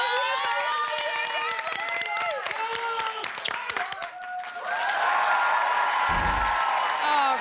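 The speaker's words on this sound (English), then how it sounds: "round of applause for Bradley." Studio audience applause and cheering on an Australian reality TV show, a dense, loud wall of clapping with whoops running steadily throughout, swelling toward the end.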